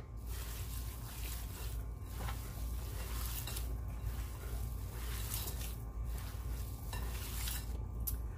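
Cabbage roll filling seasoned with pink Himalayan salt, garlic and Italian seasoning is mixed in a bowl, giving repeated close squelching, stirring and light clinking sounds over a steady low background hum, with no talk.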